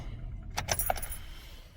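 A ring of keys jangles briefly as the ignition of a Chevy Silverado is switched off, a short metallic rattle up close, followed by quiet cab ambience with no talking.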